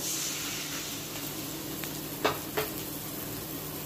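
Capsicum stirred in a hot pan for chilli paneer, with a steady sizzle of frying throughout and two brief scraping knocks of the spoon against the pan near the end.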